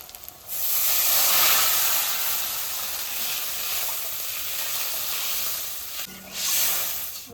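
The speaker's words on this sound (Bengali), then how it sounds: "মাছের ঝোলে জাল উঠে গেছে এবার" A thin hilsa fish and aubergine curry comes to a boil in a pot, giving off a loud, steady broadband hiss and bubbling that swells after a quiet start, dips briefly near the end, then rises again.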